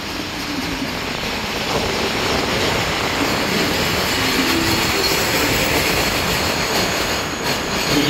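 A train numbered 415 pulls into a rural station, its steady rumbling wheels and rail noise holding loud and close throughout with faint squeals as it slows to a stop.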